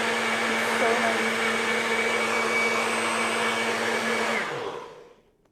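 A heavy blender whirs steadily while blending coconut into coconut milk, a loud continuous motor drone holding for about four seconds before spinning down and fading to silence.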